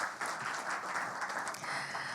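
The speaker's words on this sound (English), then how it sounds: "Big applause for Piotr." Audience applause at a health tech startup pitch finals event, a dense, steady burst of many hands clapping throughout.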